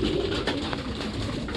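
Caged racing pigeons coo softly and steadily among a dense wash of flapping and shuffling inside the loft, close by with no talk.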